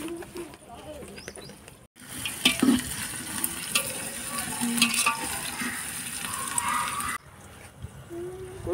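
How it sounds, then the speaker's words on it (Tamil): Onions fry in a pan for a 1.5 kg batch of chicken biryani, giving a continuous close sizzle with occasional stirring scrapes, while a person talks over it. "அதிகபட்சமாக வந்து வெங்காயம் வந்து நல்லா வதங்கி வந்துடுச்சு நினைக்கிறேன்"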